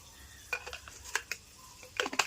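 Mustard seeds and fenugreek crackling in hot oil, with scattered sharp pops and clicks over a faint, quiet sizzle, clustered near the end.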